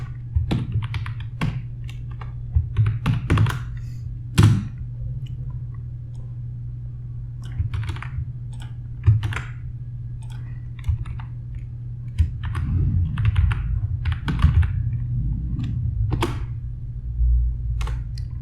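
A DAX measure being typed on a computer keyboard: sparse, close key clicks arriving in short irregular bursts with pauses between, over a steady low hum.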